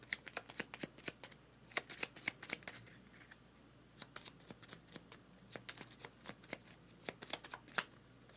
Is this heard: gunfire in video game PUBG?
no